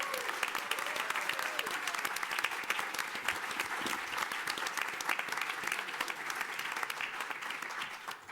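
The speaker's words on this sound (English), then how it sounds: "why don't we take the opportunity to give Joel a round of applause as the MC" Conference audience at a panel session gives a sustained round of applause for the moderator, a crisp, even clatter of many hands lasting several seconds without pause.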